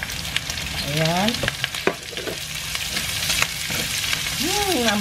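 Onions sizzle steadily in a hot pan and are stirred, with scraping strokes, while cooking Bicol Express with crab meat; a voice briefly speaks over the frying.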